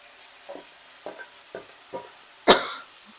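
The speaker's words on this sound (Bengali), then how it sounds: "এবার আমি যে ভাজা সবজিগুলো ছিল সেগুলো দিয়ে দিচ্ছি" Fried vegetables dropped into sizzling spice paste in a pan, a few soft stirring taps followed by one loud close burst of sizzle that fades quickly.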